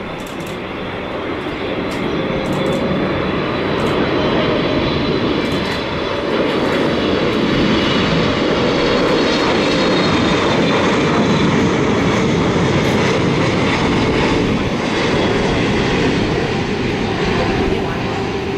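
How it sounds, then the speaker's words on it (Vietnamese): A Qatar Airways Boeing 777-300ER lands on runway 25R at Tan Son Nhat airport, its loud, continuous engine roar and rushing wind filling the scene without a break. "bây giờ chiếc máy bay hạ cánh xuống đường băng 25 phải sân bay Tân Sơn Nhất"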